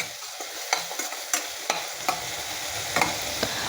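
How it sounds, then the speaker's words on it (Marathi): Coriander leaves sauté in hot oil in a pan, a continuous sizzle under frequent crisp spatula scrapes and clicks, close and fairly loud, with no talking. "कोथिंबीर देखील तेलामध्ये चांगली परतून घ्यायची आहे"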